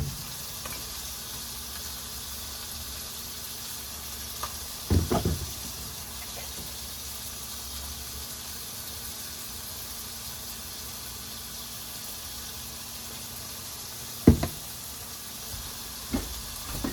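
Seasoned goulash meat sizzles steadily in a pan, a soft continuous fry hiss with a few brief scraping knocks as it is broken up, fairly quiet throughout.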